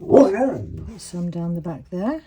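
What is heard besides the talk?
dog barking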